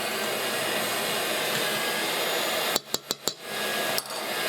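An electric hand mixer runs steadily on low speed through cupcake batter, a loud continuous whir that cuts off near the end, followed by several sharp taps and knocks against the bowl.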